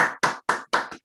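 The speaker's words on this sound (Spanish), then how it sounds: "Aplauso virtual." Four quick, close, sharp claps from a single participant in an online academic session, a short isolated burst with no talk.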